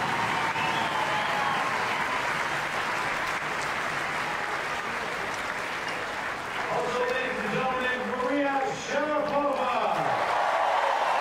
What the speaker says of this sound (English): Serena doing a Rafa, applauding Sharapova. She looked very good, Williams.